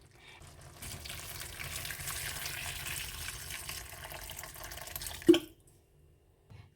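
About 1.5 cups of boiling water pour steadily into a lamb stew pot for several seconds with a soft hiss, ending in a single sharp clank before near silence.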